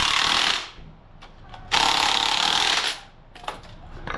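A power tool whirs in two loud bursts as it runs nuts onto the bolts of a 4R100 transmission fitted to a 1951 car, separated by quieter clanks and followed by a few short blips.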